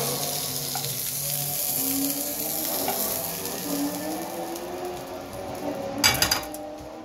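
Wagyu beef searing in a hot pan gives a steady, close sizzle that holds throughout, with a brief clatter near the end and no talk.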